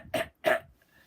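A storyteller's voice imitates a cough with two short, loud, close barks in quick succession, followed by quiet.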